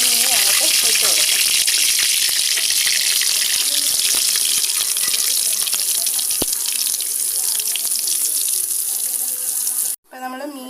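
Marinated dried fish dropped into hot oil for a Kerala-style chammanthi, giving a loud, dense, steady frying crackle that fills the scene and cuts off abruptly near the end before a brief quieter return.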